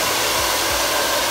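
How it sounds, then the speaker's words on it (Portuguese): A hair dryer set to maximum speed and medium heat blows with a loud, constant rushing whoosh, close and alone with no talking. "Deixando na velocidade máxima e na temperatura média."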